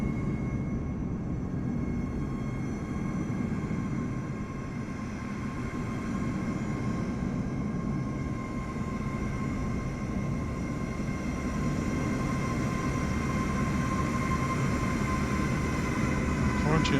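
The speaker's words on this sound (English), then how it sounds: "Real-time plane coming in." A Ryanair Boeing 737 arriving at Knock airport in Microsoft Flight Simulator gives a steady, continuous jet engine drone with a broad low rumble and faint high tones, holding at an even level throughout.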